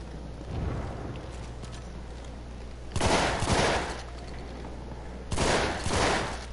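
Bursts of rapid gunfire from a weapon in Battlefield 1, two loud sustained volleys about three seconds apart, each lasting roughly a second, over a low continuous battlefield rumble with no talk.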